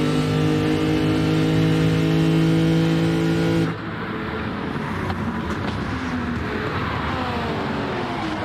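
A GT3 Cup race car engine in a racing game drones at high revs, then the note drops abruptly with a short shift and climbs again, loud and continuous with no talk.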